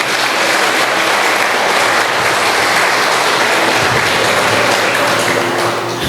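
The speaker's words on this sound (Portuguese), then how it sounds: "Você pode dar uma salva de palmas para o Senhor" A church congregation claps loudly and continuously in praise, dense and sustained applause close by with no pauses, filling the room throughout.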